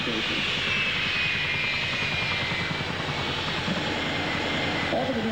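Boeing C-17 military cargo aircraft at the Avalon Australian International Airshow, its engines producing a loud, steady, broadband roar with a thin high whine that continues unbroken throughout.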